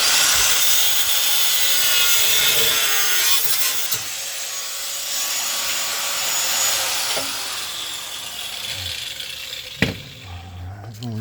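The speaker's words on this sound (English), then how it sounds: "a couple cutters and grinders going on here" Cutters and grinders run steadily in a home workshop during patch repair work, a loud continuous broadband whine and grind with shifting pitch, a sharp knock near the end.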